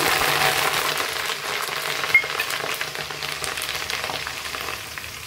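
Curry leaves and onions sizzle steadily in hot oil for a North Karnataka gram flour dish, with a bright, even crackle and a single brief clink partway through.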